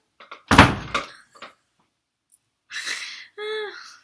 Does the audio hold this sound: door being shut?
yes